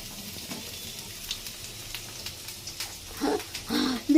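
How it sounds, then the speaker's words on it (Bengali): Potatoes frying in a pan give a soft, steady sizzle, with brief crackling bursts and a louder spitting surge near the end as more go into the oil, close by. "আলুগুলো ফ্রাই করবো"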